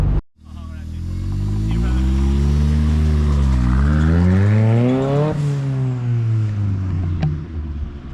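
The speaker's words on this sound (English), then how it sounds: "the turbo noises never get old" A turbocharged Mazda Miata engine revs up in long rising pulls close by, loud and sustained, with turbo whoosh and spooling tones that drop off as the revs fall, and a person talking over it.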